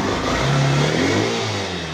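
A Yamaha YTX125 motorcycle engine revs up hard nearby, a loud, steady, buzzing rise in pitch with no voices over it.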